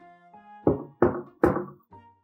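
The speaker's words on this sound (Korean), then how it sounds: "웬 남루한 차림의 노파가 집 대문을 두드렸다" As a folk-tale sound effect, someone knocks on the front gate of a house: three loud, hollow thunks at an even pace, then a softer fourth one, with nothing else around them.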